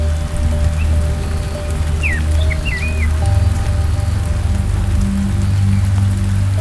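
Steady rain falls on wet grass near a bamboo bridge, a dense even patter with a low rumble beneath and a couple of faint bird calls.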